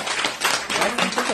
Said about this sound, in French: on peut applaudir Myriam quand même